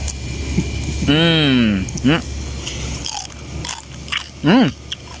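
Crispy lechon roast pig skin crunches as it is bitten, several sharp crackly bites heard close up between bursts of chatter and exclamations from people at a Christmas party.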